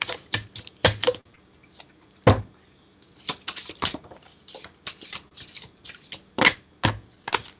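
Tarot cards shuffled by hand give bursts of quick, crisp riffling and slapping, close and fairly quiet, coming in irregular clusters with short pauses between them and no talking.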